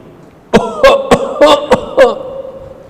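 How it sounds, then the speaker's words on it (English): A person coughs six times in a quick, loud series, close by, with a short hoarse trailing sound after the last cough. "who is suffering from a disease of TB, starts coughing"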